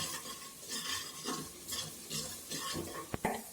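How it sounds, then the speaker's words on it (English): Brinjal curry with chili powder, salt and dhania powder being stirred in a pan: steady scraping strokes over a constant sizzle, with two sharp knocks near the end. "half spoon dhania powder, and mix it well"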